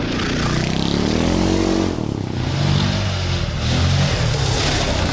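The single-cylinder engine of a 2017 Kymco MXU 700i ATV runs close by, its steady thumping note climbing and easing as the throttle changes, loud throughout with no talking.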